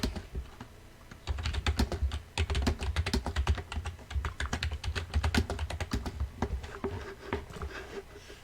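Fast, uneven clatter of keys on a computer keyboard, bursts of close clicks typing text with short pauses between runs, steady and moderately quiet.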